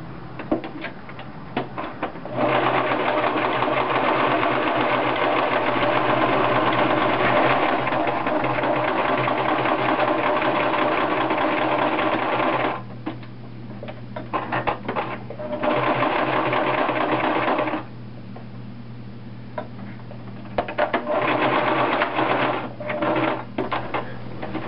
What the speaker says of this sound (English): now I have serged the top edge of my underwear